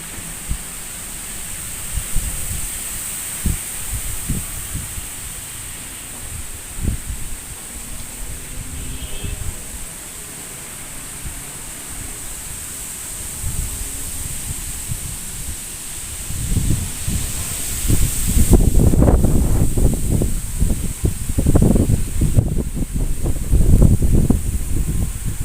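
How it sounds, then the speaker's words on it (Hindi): Strong, gusty wind ahead of rain roars in a steady broadband rush with rustling leaves, swelling louder and rougher in the final third. "बहुत भयंकर हवा चल रही है, बहुत ही ज़्यादा।"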